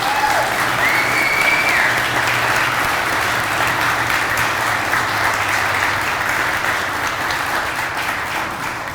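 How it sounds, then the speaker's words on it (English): An audience at a fire station opening applauds firefighters with sustained, dense clapping that holds steady for several seconds and slowly eases, with a faint crowd murmur underneath. "I'd like to give them a round of applause."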